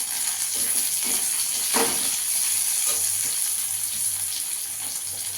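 Chopped tomato going into a pan of frying onion and garlic, with a steady close sizzle throughout and a brief splash of wet sizzling as the pieces land.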